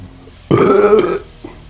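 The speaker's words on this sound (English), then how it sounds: "Some burps." A loud, drawn-out belch lasting under a second, then a small short one, heard after eating Carolina Reaper peppers on a chili challenge.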